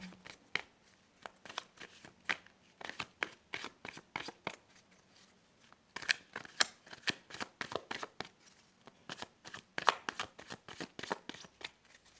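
A deck of tarot cards being shuffled close by in a quiet room, a long run of quick papery flicks and soft taps in an irregular rhythm.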